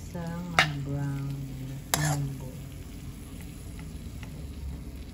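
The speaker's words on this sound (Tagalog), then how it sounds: "isasangkot siya po muna natin ang karne hanggang sa mag-brown" Meat sizzles steadily in a hot pan as it browns, with two sharp clanks of a utensil against the pan and faint voice sounds mixed in.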